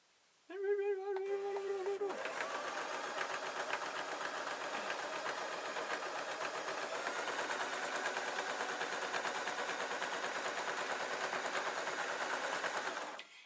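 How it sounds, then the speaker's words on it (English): A sewing machine stitches the seam of a tablet sleeping bag, running in one long, steady, close burst of rapid needle chatter after a brief start. "Now all I need to do is sew up to the end"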